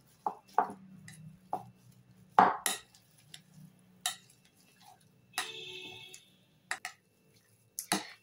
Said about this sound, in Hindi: इनको हमको मैश करना है। आप चाहें तो कद्दूकस से ग्राइंड कर सकते हैं, मैं मैशर का यूज कर रही हूँ।